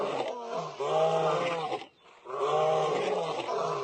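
Rat Kong, a creature, lets out two long, deep roars with a brief gap between them, loud and close, in a heavy bellowing tone like an elephant or rhino.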